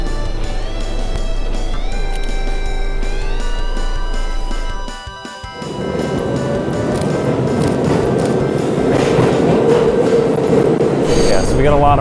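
A train rolls along the rails with a steady low rumble and tonal whine, then shifts to louder, rougher clattering noise with squeals near the end, heard from on board.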